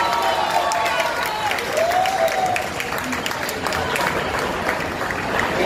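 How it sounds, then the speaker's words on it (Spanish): Applause from a live concert audience, a dense, continuous patter of many hands clapping close by, with faint crowd murmur and a brief cheer mixed in. "Un aplauso para ellos que nos han traído esta noche."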